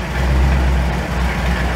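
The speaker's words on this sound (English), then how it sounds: "There's still an exhaust leak on the passenger side, it sounds like." An engine fitted with Holley Sniper fuel injection idles steadily with a deep, rumbling low-end drone, a passenger-side exhaust leak adding rough texture, close and loud for a brief stretch with no talking.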